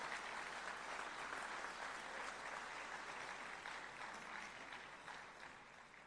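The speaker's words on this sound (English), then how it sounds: "Join me in a round of applause for these amazing individuals." An audience at the Long Beach Fire Department Meritorious Awards claps in sustained, even applause that fills the room for about six seconds, quieter overall and fading gradually near the end.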